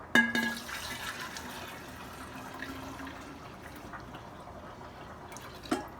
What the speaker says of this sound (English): Pour this tea into this jug.